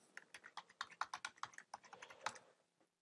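Keys clack on a Mac computer keyboard in a quick, uneven run of close, crisp taps that slows and trails off at the end.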